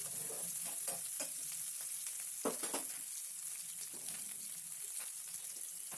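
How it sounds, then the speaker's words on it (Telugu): Green chilies frying in a pan for brinjal chutney give a steady close sizzle and crackle, with occasional stirring scrapes and louder pops, and no one speaks. "పచ్చిమిర్చి లైట్గా వేగగానే"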